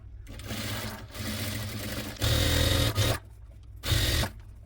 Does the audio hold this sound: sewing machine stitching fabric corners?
yes